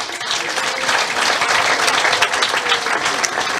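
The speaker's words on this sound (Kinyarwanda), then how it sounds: "Mwiheze amashyi." A church congregation bursts into steady, dense applause, many hands clapping together at full volume throughout.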